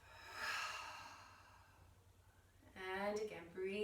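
A deep yoga exhale breathed out through the mouth, a broad airy whoosh rising and fading over about two seconds, followed by a calm instructor's voice speaking.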